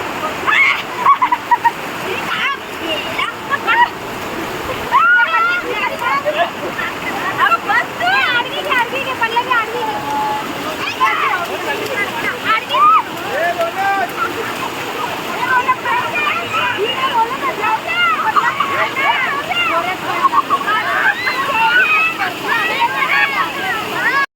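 Kondeshwar waterfall at Badlapur gives a steady rushing splash of falling water that holds at a moderate level the whole time, with voices talking faintly beneath it.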